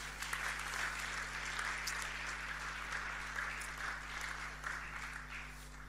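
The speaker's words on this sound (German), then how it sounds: "Gebt ihnen doch bitte einen Applaus." A church congregation applauds a worship band after a sermon's praise set, sustained mid-distance clapping that stays even throughout, over a constant low electrical hum.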